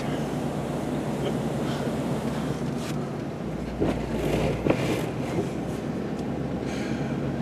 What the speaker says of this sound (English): I'm telling you, this is like full on serious wind.